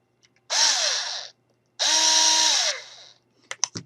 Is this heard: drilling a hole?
yes